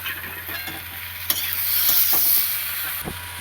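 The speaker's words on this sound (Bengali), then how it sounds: "ফুলকপি আলুটা দিয়ে মশলাটা ভালো করে একটু কষিয়ে নেব" Cauliflower and potato pieces sizzling with spices in a pan, a steady bright hiss broken by a few sharp stirring knocks, close and alone.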